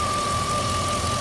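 A 1999 Jeep Grand Cherokee 4.7 idles roughly, a close, loud, steady engine rumble with a constant whine over it.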